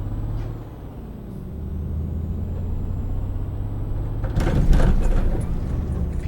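A heavy truck in Euro Truck Simulator 2 labours in first gear, its engine holding a steady, loud low drone. Near the end a sharp burst of hissing air cuts in over the rumble.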